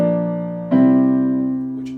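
A 1-6-4-5 chord progression in the style of 1950s songwriting, likely on piano or keyboard, plays as clear, sustained chords changing at sharp attacks and then slowly decaying, with no one speaking.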